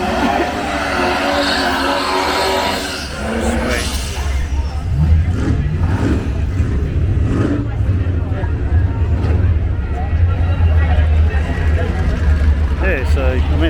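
A vinyl-wrapped drag racing car makes its run at a drag challenge event, a loud, steady engine roar swelling from a few seconds in and holding to the end, with people talking over it.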